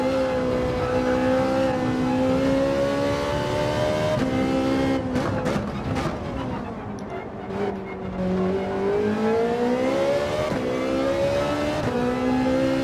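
Race car engines roar in Gran Turismo 7, a sustained rising and falling drone of revving with gear shifts and pitch sweeps, loud and continuous throughout with no talking.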